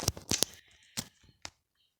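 A pair of scissors is handled close by: a few sharp, quiet metallic clicks and snips in quick succession, then one more click before falling silent.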